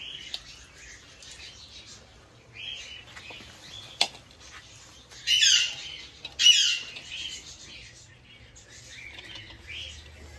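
Pet birds in a home aviary give short, fairly close squawks and chirps in a few bursts over quiet room tone; no one speaks.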